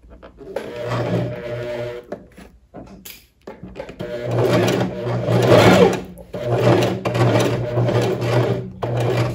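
Sewing machine backstitches the end of a sleeve cuff seam on a puffed long sleeve, running in short close bursts of rapid stitching separated by brief pauses.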